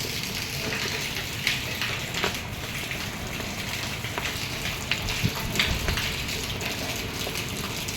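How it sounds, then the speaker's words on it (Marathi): Steady rain falling and pattering on surfaces, a continuous soft hiss with scattered louder drips, moderately faint and alone. "मस्त पाऊस, बरं वाटतं."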